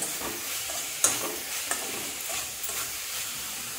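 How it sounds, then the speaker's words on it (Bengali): Boiled potatoes and paneer being stirred with spices in a pan, with soft scraping and a faint sizzle, a couple of sharper knocks of the utensil against the pan, no talking. "দিয়ে দিচ্ছি এই যে পনিরগুলো, দিয়ে আমি ভালো করে মশলার সঙ্গে এখন মিশিয়ে নেব।"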